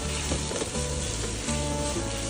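Smoked bamboo shoots stir-fried in a hot wok for a farmhouse-style dish, a loud, continuous sizzle with stirring scrapes layered on top, close up and uninterrupted, with no talking.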